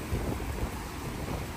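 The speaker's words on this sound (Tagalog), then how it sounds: "Lakas ng hangin." Strong wind gusts roar steadily outdoors on an autumn day with falling leaves, a dense rumbling rush buffeting the microphone throughout.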